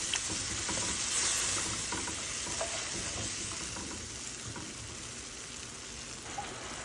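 Spice paste with a little added water cooks in a pan with a continuous, even sizzle and soft bubbling. Light stirring scrapes sound underneath, at a moderate, close level.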